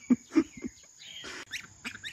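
A goose next door lets out a few short, nasal honks in quick bursts, close and fairly loud, with brief quiet gaps and a faint steady hum between calls.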